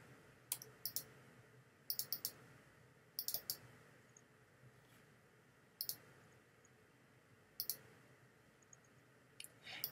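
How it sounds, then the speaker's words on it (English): Computer mouse clicking while working with gradients in Illustrator: sharp, quiet double clicks recurring in small clusters roughly every one to two seconds against a faint background hum, with no voices. "So I could double click."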